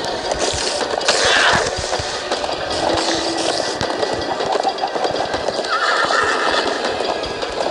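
Galloping hooves drum quickly and continuously while a horse neighs loudly over them in Minecraft Story Mode, with a busy, game-like ambience underneath.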